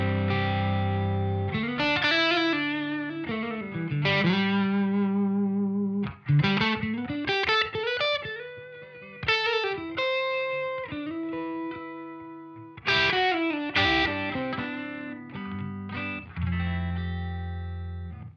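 An Ivison Hurricane '59 mahogany electric guitar on its P90 neck pickup plays a run of overdriven chords and melodic phrases with sustain and bends, loud and close, with no talk over it.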